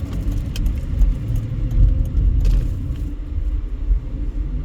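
A Nissan car speeds along a desert road in East Las Vegas, a loud, close, continuous engine and tyre rumble with no talk.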